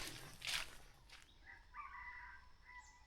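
Wild junglefowl crow faintly in the distance from a remote, quiet area, with a couple of short, thin crowing calls over a soft background hush.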